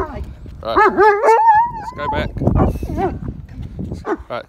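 A reactive, anxious German Shepherd gives sharp yips and whimpering cries outdoors on a walk, close and loud, mixed with people talking nearby.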